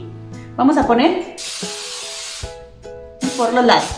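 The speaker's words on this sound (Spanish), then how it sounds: "lo que vamos a usar o desmoldante de gelatina o aceite en spray en aerosol" Aerosol baking release spray hisses in long bursts into a gelatin mould, coating its sides, with someone talking before and after the spraying.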